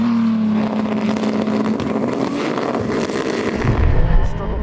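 A powerful Lamborghini V10 engine roars continuously and loud during a drag race, its pitch climbing as it revs hard and accelerates, swelling even louder near the end.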